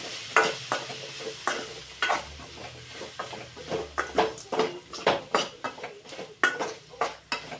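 Something already boiled is fried in a little oil while being stirred in a pan, with repeated sharp scrapes and clinks of a spoon against the metal over a light steady sizzle, close and clear.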